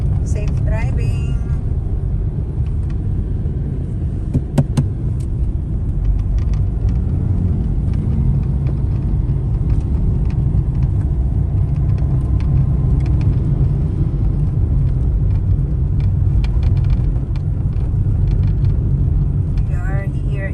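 A car drives through medium road traffic on EDSA in Cubao, Quezon City, giving a loud, steady low rumble and road noise that runs unbroken throughout with no clear individual events.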